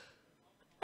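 A single sneeze bursts out loudly at the very end, after a near-silent stretch with faint room noise, during a live stream of a card game.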